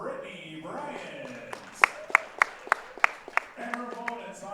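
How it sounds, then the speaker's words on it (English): At a billiards tournament, a small audience gives a short burst of sharp, sparse hand claps for a pool player, with an announcer talking before and after. "Round of applause for the bombshell, Brittany Bryant."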